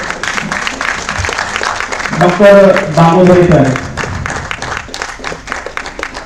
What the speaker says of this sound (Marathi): त्यासाठी सर्वांनी जोरदार टाळ्या वाजवल्या पाहिजेत